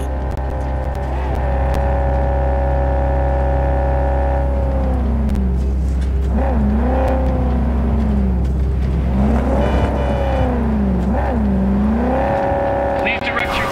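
A car driving in the video game Cyberpunk 2077 gives a steady, loud engine drone with whining tones that swoop up and down as it revs, and voices are heard faintly at times.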